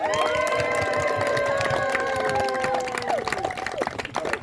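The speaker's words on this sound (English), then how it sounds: "Let's give them a round of applause" Applause and cheering from a group of young people in a congratulatory moment, clapping and shouting together over a sustained voice, the crowd noise loud and steady before fading.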